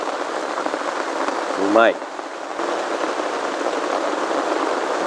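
Steady rain falls at a campsite, a dense even hiss running throughout, with a man's brief spoken remark near the start.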